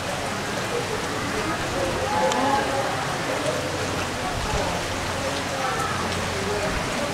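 Steady, dense rain falls during a typhoon in a Pangasinan barangay, a constant hiss of drops hitting surfaces that holds at an even level throughout, with faint voices underneath.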